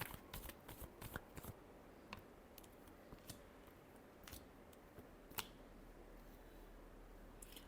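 Tarot cards are shuffled quietly and close up, with a run of quick crisp riffles and taps at the start, then scattered soft snaps and flicks over a low background hiss.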